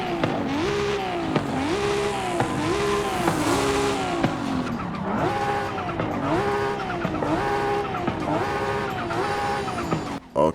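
A 2013 Subaru BRZ in Forza Horizon 5 revs repeatedly through rising and falling engine pulls, with a steady, loud exhaust note and tire squeal running throughout, and no talking.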